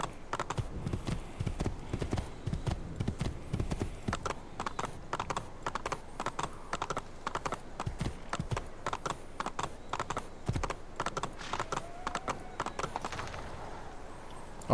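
A horse's hooves clip-clop at a steady, brisk rhythm while it is ridden in the video game Assassin's Creed 2. The clatter continues throughout with no talking.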